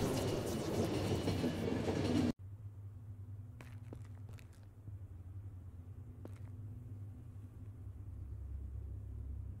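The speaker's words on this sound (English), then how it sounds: "Oh, no, my train!" A train departs in the video game The Final Station: a loud, dense rumble cuts off abruptly, then a lower, steady rolling rumble continues with a few scattered clanks.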